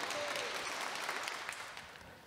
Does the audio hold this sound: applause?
yes